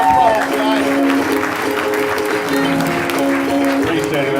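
A comedy-night crowd gives a loud, steady round of applause for a guest comedian, with cheering voices and someone talking over the clapping.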